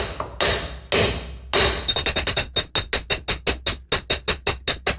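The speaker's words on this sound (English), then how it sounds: "I put this axle puller back on so that I can hit it with a real hammer and not damage the plate" A hammer strikes an axle puller mounted on the front axle of a 1994 Chevy K1500 pickup. A few heavy blows give way to a fast, steady run of sharp metallic hits, close and ringing.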